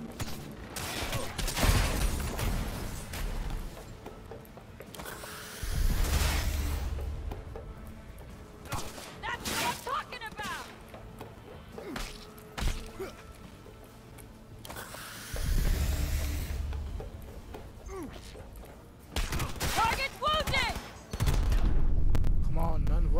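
Bursts of automatic gunfire in the video game Cyberpunk 2077, coming in loud volleys at intervals with scattered single shots between them, while a player talks over the action.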